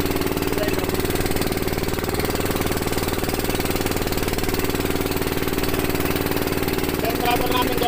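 A motorcycle engine fitted with a muffler runs with a steady, rapid chugging throb, continuous and fairly close, on a provincial road in Bicol, with voices talking over it.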